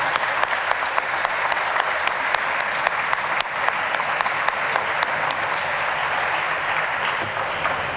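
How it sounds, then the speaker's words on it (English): A school audience claps at a senior recognition night for the Class of 2021. Dense, continuous applause with sharp individual claps popping out lasts about eight seconds, loud and close, with a few faint voices mixed in. "Please join me in a round of applause to thank them"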